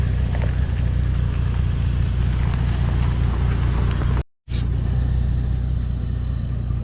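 Toyota 4Runner engine rumbling steadily as it climbs over a rock on a wooded off-road trail in the Ouachitas, a continuous close low drone with one brief dropout.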